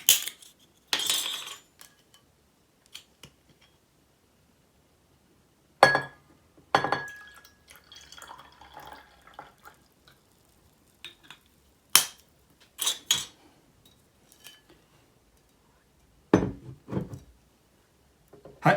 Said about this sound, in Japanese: 日本酒で行ってみたいと思います。 八海山ですね。 でこれまだ開いてないんですよ。